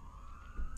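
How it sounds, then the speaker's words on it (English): An ambulance siren holds a steady wailing tone from outside a car, fairly faint and brief, with a soft burst of noise near the end. "The ambulance."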